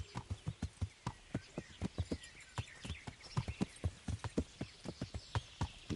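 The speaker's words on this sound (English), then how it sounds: "He's a very brave horse." Horse hooves clip-clop steadily in Kingdom Come Deliverance, a brisk walking gait of close, evenly spaced hoofbeats with no speech over them.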